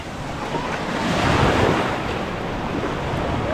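Ocean waves and surf breaking at a beach, a steady broad wash of water that swells to a louder peak midway before settling, with some wind noise on the microphone and no voices.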